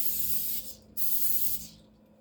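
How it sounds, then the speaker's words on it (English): Organic food release spray is misted from an aerosol can into a thrifted cake pan for a Guyanese black cake, in two close hissing bursts separated by a brief pause. "I think this should fit in spray food release organic"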